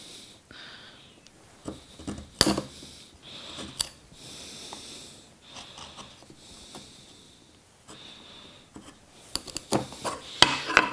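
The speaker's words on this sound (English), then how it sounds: "I'm gonna take a chisel, I'm gonna come in here" A hand chisel pares wood from a hand-cut dovetail joint. Soft scraping shaves come in short, separate strokes with occasional sharp taps and knocks, quiet and close, and no one speaks.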